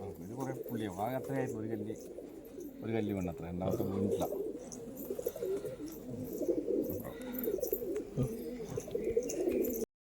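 Pigeons coo in low, throaty, repeated calls, close by, with more cooing and faint chatter blending into the background.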